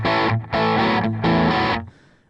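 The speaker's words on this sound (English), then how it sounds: "It's a 68 Plexi. It's that classic Marshall sound from the" An electric guitar runs through a DigiTech RP1000 '68 Plexi Marshall amp model with no reverb or delay. Loud, dry, distorted chords ring in a few sustained strums, then cut off abruptly at the end.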